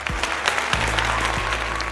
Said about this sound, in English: give Professor Butcher, Chanel, and Shanice a round of applause for a job well done.